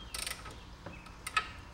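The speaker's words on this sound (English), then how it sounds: "take a 18 millimeter socket as well as either a breaker bar or extendable ratchet" A ratchet fitted with an 18 mm socket and a breaker bar works loose a nut on a Mercedes E63 W212 suspension, giving a few quiet, brief metallic clicks and ratcheting ticks, close by, with no talking.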